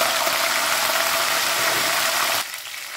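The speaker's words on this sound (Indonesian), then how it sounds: "Goreng cabai merah dan rawit merahnya ya." Red chilies and bird's eye chilies frying in hot oil, a loud steady sizzle and crackle that drops sharply near the end.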